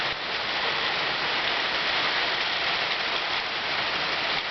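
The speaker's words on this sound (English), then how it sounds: "See if I can get it off this rooftop. You can hear it." Steady rain drums on a rooftop in Kerikeri, New Zealand, a dense, even hiss that stays close and unbroken for the whole stretch, with no voices.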